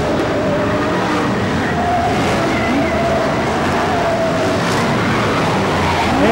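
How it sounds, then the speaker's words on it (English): BriSCA Formula 1 stock cars race around the Mildenhall track in a final: a loud, continuous roar of several engines with rising and falling pitch as cars pass, no talking. "In the final stages of tonight's final for the BriSCA Formula 1 stock cars"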